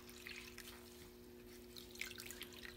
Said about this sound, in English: I'm going to rinse my sponge again.